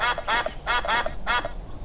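Ducks quack in a quick series of about five nasal calls grouped in pairs, close and clear, as a sound effect in a children's audiobook.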